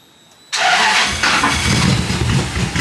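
A drift car's engine cranks and catches after half a second of near silence, then roars steadily at close range with slight surges in revs.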